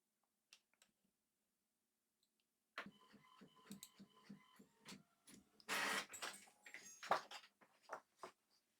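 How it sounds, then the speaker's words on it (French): A Silhouette print-and-cut job runs through a printer printing a page: a few isolated clicks, then several seconds of busy mechanical clatter with rhythmic feed ticks, rollers and a louder whirring burst near the end, close and without talk. "Je vais imprimer. Et c'est parti."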